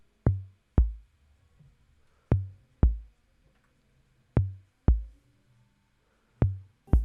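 High and low tom drum samples in FL Studio, struck in pairs of a higher then lower hit, each pair spaced by a pause, with deep booming decays, clean and alone.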